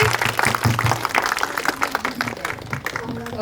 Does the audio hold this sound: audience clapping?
yes